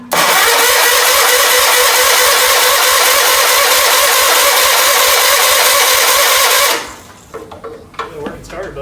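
A John Deere 317 starter, driven by direct current, cranks the engine in a loud, fast rhythmic churning for nearly seven seconds and then cuts off, leaving faint scattered rattles.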